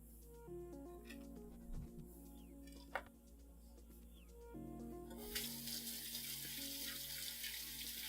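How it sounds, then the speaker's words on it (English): Tap water suddenly gushes into a sink for handwashing, a loud steady splash following quieter kitchen clatter and faint background music. "And another 20 seconds to wash my hands."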